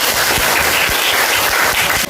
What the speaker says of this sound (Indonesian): Tepuk tangan dulu buat Sophie.